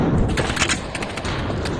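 Dense, loud gunfire from the VR shooter game Aim XR, with rapid overlapping bursts forming a continuous booming barrage throughout.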